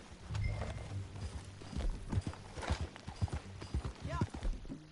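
Horse hooves clip-clop at a steady riding pace in Red Dead Redemption 2, a soft rhythmic patter of footfalls heard under intermittent speech from the characters.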